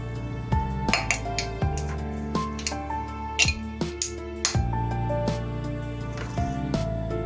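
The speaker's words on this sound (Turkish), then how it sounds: "Üzerine soğuk suyumuzu ilave edelim. Ve de buz." Ice cubes dropped into a glass of cold sour grape sherbet clink and tick repeatedly against the glass, light and close, with no voices.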